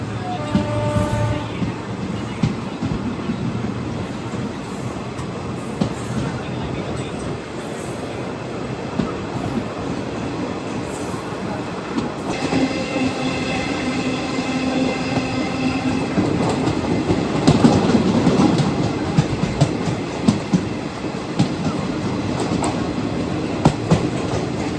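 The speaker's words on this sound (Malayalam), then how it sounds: "നമ്മുടെ തലകുപ്പ എക്സ്പ്രസ് ഇപ്പോൾ രാമനഗരം എന്നൊരു സ്റ്റേഷനിലാണ്ട് എത്തുവാണ്." A Mysuru to Talguppa Express passenger train running near Ramanagara station: steady loud rumble and clickety-clack of wheels on rails, with some wheel squeal and a rising roar partway through.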